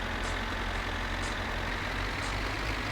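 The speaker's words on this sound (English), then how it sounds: "tractor noise is making my eyes wobble a little bit" Steady tractor engine drone in My Summer Car, a constant low rumble with no breaks, close and even for the whole stretch, no voices.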